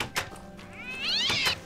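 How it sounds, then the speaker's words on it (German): An angry cat in Minecraft with the Mo' Creatures mod gives a long, rising, whiny meow that bends up and down in pitch, set between soft thumps and clicks of gameplay. "Die Katze ist sauer!"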